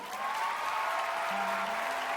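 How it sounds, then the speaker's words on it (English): Applause from a live show audience greeting a hometown singer as she takes the stage at the finale, a steady, dense wash of clapping filling the room; a faint sustained musical tone creeps in underneath near the end. "please give a warm round of applause for our hometown girl"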